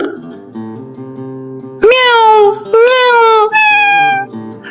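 A cat meows three times in quick succession: loud, drawn-out, tonal cries that follow a lower, steadier sound.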